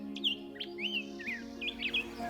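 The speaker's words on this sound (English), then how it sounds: "we get a lot more little birds and you hear different songs" Little birds sing in spring at a wildlife refuge, several short chirps and whistled phrases scattered over a steady low hum, moderately faint, with no talk.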